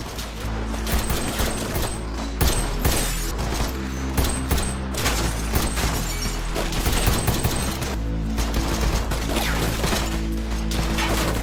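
Dense, continuous gunfire from a fight scene in a dark NIS branch office, with rapid overlapping bursts and crashes filling the whole stretch, loud and close.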